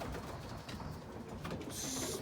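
Racing pigeons in a loft coo softly and steadily, a low murmur of several birds close by with no talk.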